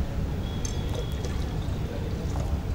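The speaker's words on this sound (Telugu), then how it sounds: "సో మనం ఇలా కొంచెం ఇప్పుడు కొన్ని నీళ్ళు వేసేయండి దీంట్లో." Water is poured into a buttermilk mixture during a bitter gourd garlic karam recipe, giving a short, soft, close pouring splash with a few faint drips.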